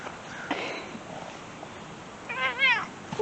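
A cat meows near the end, a couple of short rising calls following a quiet stretch of faint room noise and small rustles.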